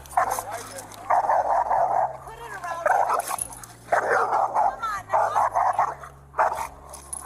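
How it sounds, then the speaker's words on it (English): A leashed dog barks repeatedly in short loud bursts, close by, mixed with people talking over it. "We got the dog on a leash."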